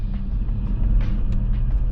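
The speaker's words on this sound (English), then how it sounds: "what a stunning sounding engine this is" Deep, steady idle-like rumble of a Porsche Cayenne Turbo 4.5-litre twin-turbo V8 cruising gently, heard close up with a few faint clicks and hisses over the drone.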